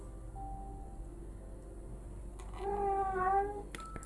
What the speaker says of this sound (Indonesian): Kucing aku itu ya yang jantan, sibuk aja mau kawin